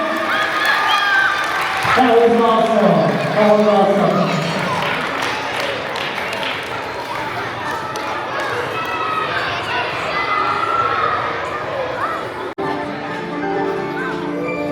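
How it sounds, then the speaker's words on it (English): Audience applause and cheering at a school Losar celebration in Minnesota, a crowded hall of clapping mixed with children's voices and shouts that swells early and carries on, with an adult speaking over it in places. "give a big round of applause"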